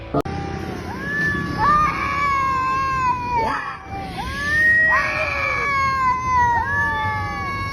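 Cats fighting give long, wailing, rising and falling yowls, loud and close, overlapping in a drawn-out caterwauling exchange that sounds almost like a crying baby.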